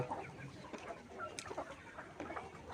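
Pullet hens ready for laying cluck softly and intermittently at a poultry farm, a faint, scattered chorus of short calls heard at a moderate distance without speech.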